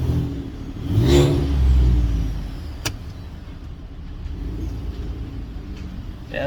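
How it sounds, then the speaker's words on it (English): A new pickup truck fitted with a Corsa aftermarket exhaust is revved while stationary, the close engine note swelling into a deep roar for about a second before settling back to a low, rumbling idle. "let's see, a little neutral rev."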